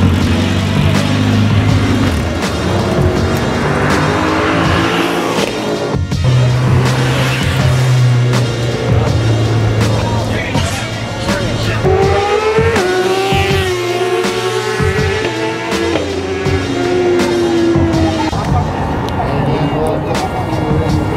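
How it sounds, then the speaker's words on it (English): A 500hp Subaru STI accelerates hard at a race-legal car meet, its engine note climbing through revs over a long stretch, loud and near, with crowd chatter mixed in. "Subaru's always going hard."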